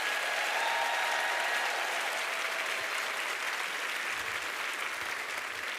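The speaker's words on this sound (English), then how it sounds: "we want to give a huge round of applause to our leadership development team for putting this evening together" Loud, sustained applause from an audience at a teacher leader celebration evening, a continuous dense roar of many hands clapping close by for several seconds without letting up.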